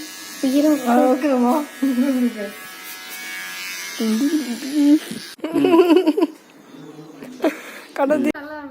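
An electric hair clipper buzzes steadily through a family's home haircut, running under lively talk and laughter from several people, close by and fairly loud.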